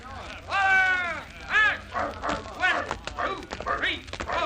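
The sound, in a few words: dogs barking at a platform in an audio drama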